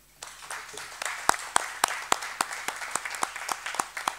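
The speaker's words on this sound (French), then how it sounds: "on vous remercie et on peut vous applaudir." Rhythmic clapping from a small group at a municipal council meeting, starting sparse and settling into a steady, fairly close beat.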